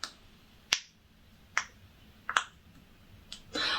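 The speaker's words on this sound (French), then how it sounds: "il y avait un mini pop-it, regardez, comme il est trop mignon" A mini pop-it fidget toy gets popped several times, each one a sharp, quiet click spaced about a second apart in a hushed room.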